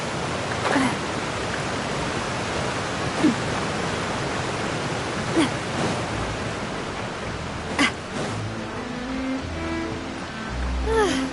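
Continuous rain in Genshin Impact forms a dense, steady hiss with a few soft swells, while faint musical notes and a brief voice surface near the end.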